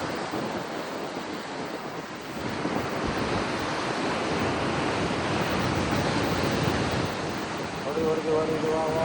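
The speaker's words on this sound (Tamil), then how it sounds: "கடல் ஆக்ரோஷத்துடன் காணப்படுகிறது." Rough sea surf crashes along the Pondicherry shore in a continuous roar, mixed with heavy wind buffeting the microphone. The surge swells louder toward the end.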